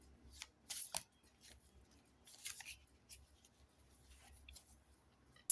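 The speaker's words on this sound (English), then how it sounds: "And now I'll draw the last card." A tarot card drawn from a deck, with a couple of brief crisp papery slides and snaps followed by faint shuffling rustle, close and quiet, no talk.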